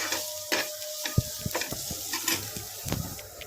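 A spoon scrapes and stirs a turmeric mixture in a frying pan for a bitter gourd fry, with soft sizzling and irregular light clicks of utensil against pan, close and alone.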